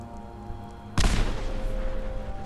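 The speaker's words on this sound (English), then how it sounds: "I'm just gonna chuck a grenade" A grenade explodes in Fallout 4 survival mode: a sudden loud blast that breaks out of quiet ambience, then a dense rumbling roar that stays strong to the end.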